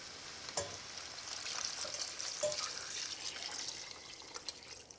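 Broth poured into a pot of leeks, potatoes and thyme for soup makes a faint, steady, hissing splash, with a few soft drips and clinks.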